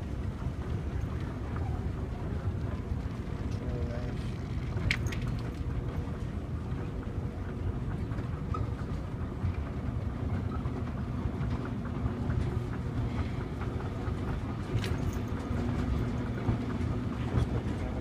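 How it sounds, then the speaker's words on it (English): A Montgomery escalator at JC Penney in Woodfield Mall, Schaumburg, Illinois, running with a continuous low mechanical rumble and faint rattles, heard up close while riding, with mall ambience behind it. "It's a Montgomery escalator."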